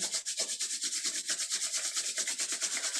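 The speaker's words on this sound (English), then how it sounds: "Rub the palms one more time." Palms rub briskly together in a steady back-and-forth rhythm, a close, dry swishing repeated many times with no talk.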